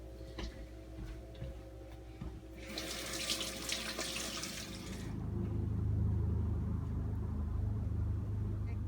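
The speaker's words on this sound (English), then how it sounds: "I'm gonna wash my hands real quick." Running tap water from a faucet splashes over hands being washed at a sink, a bright hissing wash lasting a few seconds, set against a low, steady background hum.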